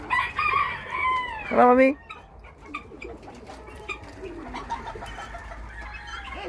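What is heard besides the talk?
chickens clucking on a farm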